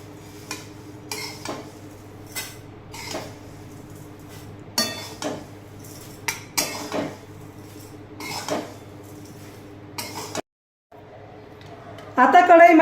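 Metal spoon scraping and clinking against a pan while roasted poha flakes are scooped out, a series of sharp intermittent scrapes and clinks over a low steady hum, ending with a brief gap and a louder rustle.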